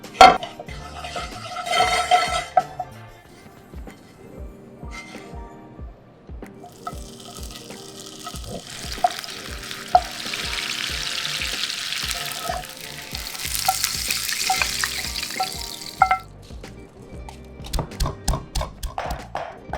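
Belacan toasting and salted fish frying in a pan, heard as bursts of hissy sizzle rising midway and fading, over background music with rhythmic beats and occasional clinks.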